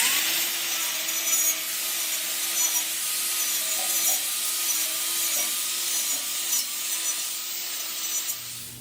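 An angle grinder with a cup wire brush works over an ornamental iron gate, giving a steady, loud abrasive whir with a constant motor tone that holds for about eight seconds before easing off at the end.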